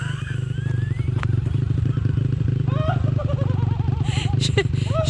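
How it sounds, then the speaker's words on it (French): A YCF 190 pit bike engine runs steadily close by with a rapid, buzzing idle pulse, its high mechanical clatter constant throughout, and brief voices and faint whistles cutting in over the top. "elle faisait vraiment beaucoup de bruit comparé aux autres petites motos"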